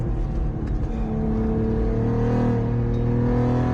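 A 625 WHP Cadillac ATS-V on a race track gives a loud, steady engine drone with strong low harmonics, holding a sustained pitch under throttle through a corner, close and continuous, with no talking.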